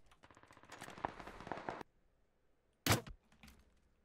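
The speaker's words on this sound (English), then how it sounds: "He's shooting again." Gunfire in the video game PUBG: a dense burst of rapid shots for nearly two seconds, a pause, then a single sharp loud crack followed by a few fainter shots.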